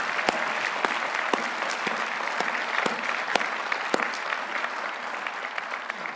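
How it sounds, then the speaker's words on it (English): Steady applause from a large audience at a university graduation ceremony, with sharp individual claps standing out above a dense, continuous wash that holds level for several seconds. "let's give everyone a round of applause"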